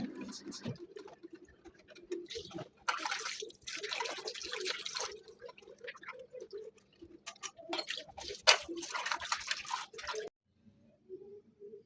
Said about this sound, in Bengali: খুব ভালো করে জলে ধুয়ে নিচ্ছি